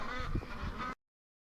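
Ducks packed inside a barn give off a close, dense chatter of nasal honking calls, quiet and continuous before cutting off abruptly.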